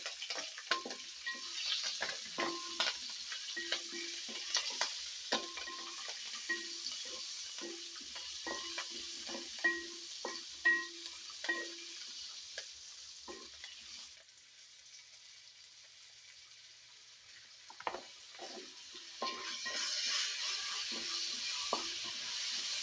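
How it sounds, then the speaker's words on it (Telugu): Green chillies and onion pieces fry with spices in a pot for fish fry biryani, with a soft sizzle under rapid, rhythmic spoon taps and scrapes that fade to a quiet stretch before picking up again. "మనకు ఉల్లిపాయ ముక్కలు అయితే వేగిపోయాయి"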